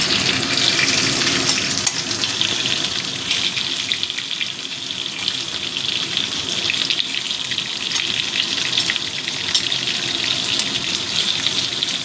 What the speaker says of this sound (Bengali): এবার আলুগুলোকে একটু লাল লাল করে ভেজে নেব।